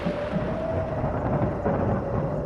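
A thunderstorm with rain, used as a horror-story sound effect, makes a steady, dense low rumble and roar that fills the whole stretch without breaks. No one speaks.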